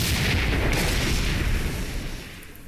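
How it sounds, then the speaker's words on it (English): A very large explosion in the video game Cataclysm: Dark Days Ahead roars as a loud, sustained broadband blast that slowly fades over a few seconds. "A very large explosion."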